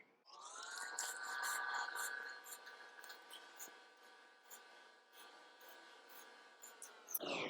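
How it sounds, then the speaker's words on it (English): A steady, close rubbing and scraping as anti-seize grease is worked onto the back of a car wheel spacer, continuous for several seconds with a small clunk at the end. "I'm going to put on some anti-seize grease on the back of the spacer and pop it on"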